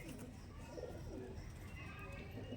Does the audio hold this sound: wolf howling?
no